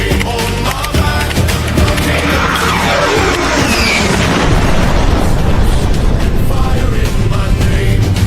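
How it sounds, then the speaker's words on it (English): Bombs exploding nearby in a continuous, dense roar of blasts and rumbling debris that stays loud and unbroken throughout. "they were dropping bombs next to you"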